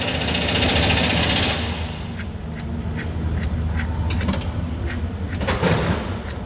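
A Volkswagen Amarok engine with a slipping clutch runs close with a dense, buzzing mechanical drone and rapid rattling, loud and steady throughout with faint clicks over the top.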